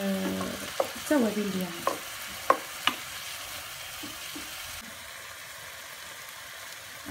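Seafood paella ingredients frying and being stirred in a pan, a continuous sizzle broken by several clanking scrapes of the spoon against the pan, with someone speaking briefly over it.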